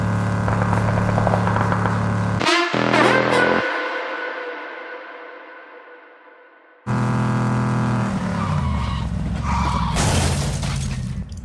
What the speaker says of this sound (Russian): А тут эта тачка приехала, Тринди, слышишь?